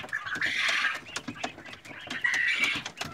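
Albino Texas quail chicks huddle under a red heat lamp in a brooder, their many high, thin peeping chirps overlapping in two busy bursts close by, with soft rustling between them.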